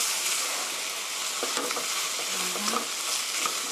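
Chicken spaghetti being stir-fried in a pan, a steady broadband sizzle with occasional scrapes and stirring clinks, close and moderately loud, no voices.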